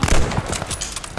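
Gunfire in Call of Duty Vanguard comes as a short, loud burst of rapid shots at close range, quickly fading into scattered echo.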